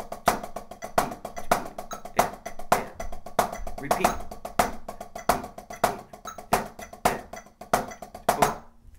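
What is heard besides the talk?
drum accent exercise, two counts of each accent in sixteenth-note taps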